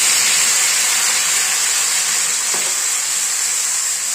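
Garlic frying in hot oil in a home kitchen before bottle gourd goes in, a steady loud sizzle and hiss throughout with a brief scrape partway through.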